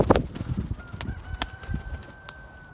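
Domestic pigeons in a loft, low cooing calls with scattered wing flutters and taps, close and moderately loud, with no talking.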